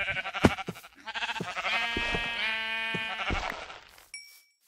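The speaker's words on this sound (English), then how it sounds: "I'm just killing sheep." Sheep bleats from the Minecraft video game, a few short wavering calls at first, then a long tremulous bleat in the middle, close and fairly loud, ending with a brief high electronic tone.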